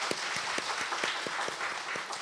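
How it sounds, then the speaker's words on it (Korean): A church congregation claps together during a Wednesday prayer service, with distinct, fairly regular hand claps sounding over a soft wash of applause, quiet and somewhat distant. "우리 다시 한번 큰 박수로 하나님께 영광 올리겠습니다"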